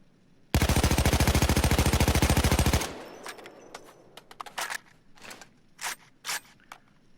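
An AKMSU Krinkov carbine fired in Payday 2: a loud sustained automatic burst of rapid, evenly spaced shots for about two seconds, then scattered quieter clicks and clatters after it stops.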